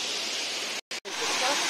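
Steady broadband roar of the rushing Tirathgarh Waterfall in Bastar, close and continuous, briefly cut by two short silent gaps before resuming at full strength.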